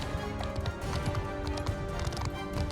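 A horse gallops in the Bannerlord video game, a steady stream of rapid hoofbeats with game noise layered close and loud throughout.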